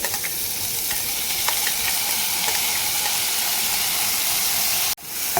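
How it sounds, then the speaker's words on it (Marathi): Barnyard millet (bhagar) sautés in ghee with finely chopped green chillies, giving a steady close sizzle with scraping stirs throughout and a brief break near the end. "आता भगर आपल्याला छान अशी तुपामध्ये परतवून घ्यायची"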